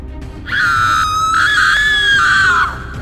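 A man named Raghav screams in terror inside an elevator, a loud sustained cry of about two seconds with a rising, strained pitch, standing alone with no talk over it.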